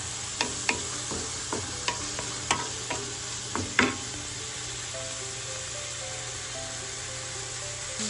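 Pork and liver stir-fry in a hot pan as a continuous sizzle, with a string of sharp scraping and clanking strokes from stirring in the first half, then the frying hiss continues alone.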